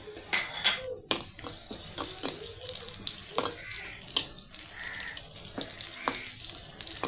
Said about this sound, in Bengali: এখন আমি একটু সামান্য পরিমাণে তেল আর রসুন পেঁয়াজ বাগার দিয়ে নিব।